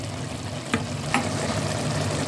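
Fresh washed herbs drop into a simmering tomato-style sauce for stuffed vegetables in a home kitchen, giving a steady close sizzle and bubbling with two brief clatters of the pan, no talk.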